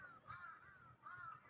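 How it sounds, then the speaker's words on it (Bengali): Two harsh caws from crows in a tree near a pigeon farm, spaced about a second apart, faint and distant with no voices. "কিভাবে কাক ডাকাডাকি করতেছে"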